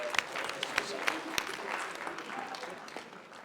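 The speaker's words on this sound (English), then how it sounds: "Another round of applause for" Faint applause rises from the audience at a conference, scattered sharp claps over a soft crowd wash that slowly dies down, distant and quiet, with a voice speaking over it.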